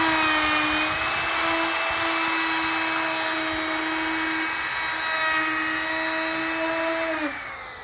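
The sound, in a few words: router with carbide 3/16 round-over bit cutting 1x6 board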